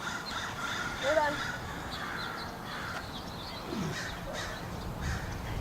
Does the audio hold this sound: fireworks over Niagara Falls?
no